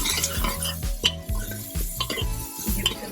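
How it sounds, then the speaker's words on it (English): Chopped onions tipped into a pot for black-eyed pea curry and stirred with a utensil, with close scraping and clinking against the metal over a low sizzle, busy and continuous throughout. "To this I'm going to add my onions, which I had already chopped and kept."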